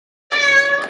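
A cat gives a single short meow, close and clear, starting abruptly after a moment of silence.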